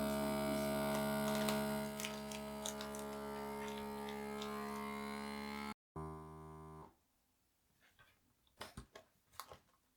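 A Cuisinart vacuum sealer draws down and seals a bag of venison jerky with a steady electric hum and whine that stops abruptly, leaving a quiet room with a few faint clicks and small handling sounds.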